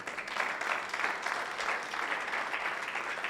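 A church congregation applauds for the Lord in a steady, sustained wash of clapping, fairly distant and even throughout, with faint voices mixed in.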